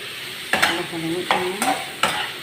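Carrots and cabbage are stirred and fried in a pan with a steady sizzle, broken by several loud scraping stir strokes, close up and with no talking.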